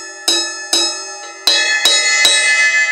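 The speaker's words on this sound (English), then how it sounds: "There's also bells on cymbals." A drumstick strikes the bell of a ride cymbal on a drum kit five times in an uneven rhythm, each ping bright and ringing with a long metallic sustain that overlaps the next hit, close and loud with no talk.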